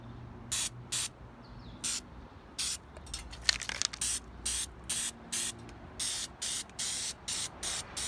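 Sealant sprayed into a leaky gutter seam in short, regular hissing bursts, a dozen or more evenly spaced, close and fairly quiet.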